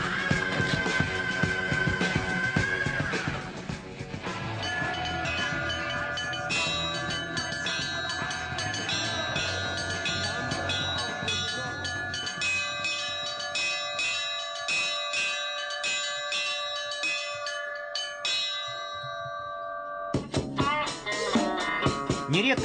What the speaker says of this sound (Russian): На колоколах он воспроизводил мелодии своих любимых групп